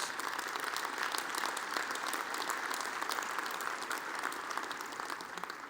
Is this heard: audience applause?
yes